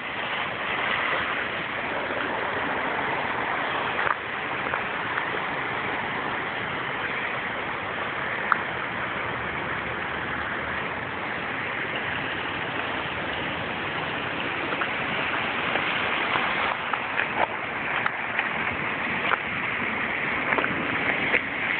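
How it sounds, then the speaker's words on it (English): Hail falls alongside sheets of running water, making a steady, loud, hissing wash with scattered faint ticks of impact throughout and no talking. "that's hail."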